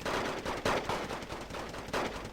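Rapid automatic gunfire in the Wargame Red Dragon strategy game, a dense continuous rattle of shots with several sharper bursts, loud and close with no talk over it.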